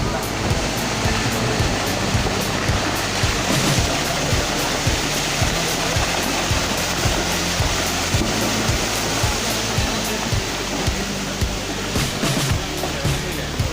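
Loud, continuous roar of rushing floodwater from a landslide fills the clip, a dense unbroken torrent with faint voices buried beneath it.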